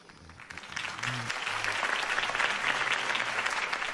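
A crowd in the Batman Telltale video game applauds after a Harvey Dent campaign speech. Dense clapping swells within the first second and holds steady and full to the end, with a faint low voice murmuring underneath early on.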